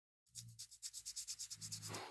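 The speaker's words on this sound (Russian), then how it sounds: "Берем наждачную бумагу и удаляем вспученную краску" Blistered old paint being sanded by hand off a car wheel rim with sandpaper: a quiet, rhythmic rasping of about a dozen quick back-and-forth strokes, close up and alone.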